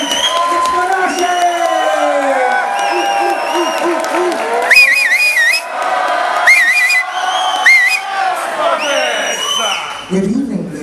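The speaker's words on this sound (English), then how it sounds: "Get that ripple of applause going. Get it going. And a great big cheer, please, on the stage." A comedy club audience applauding and cheering for a stand-up comedian's entrance, with sustained loud clapping, whistles and whoops, and music playing underneath.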